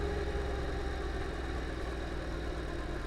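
A Honda DCT motorcycle engine idles steadily with a low, continuous rumble throughout, close and even, with no talking.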